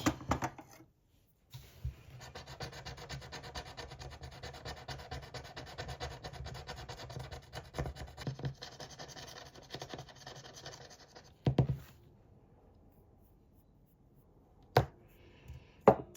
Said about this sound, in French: il me restait 2 pastilles à gratter